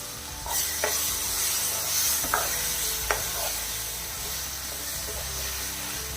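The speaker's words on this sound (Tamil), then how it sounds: "சேர்த்துட்டு நல்லா கிளறிக்கலாம்." A spoon stirs sweet potato masala in a hot pan, soft scraping strokes under a steady sizzle of frying, with a few sharper clinks against the pan along the way.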